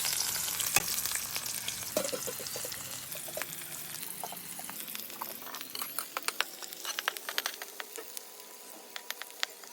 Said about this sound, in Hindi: ये लाल होने दो, प्याज लाल हो जाएगा, उसके बाद चिकन डालेंगे।